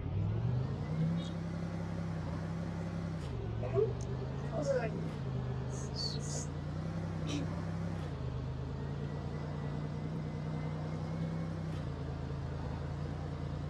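Car engine in the Roblox game Car Dealership Tycoon, where a Ferrari is mentioned, gives a steady, droning hum throughout. A few brief electronic tones sound over it, and a voice talks over the engine.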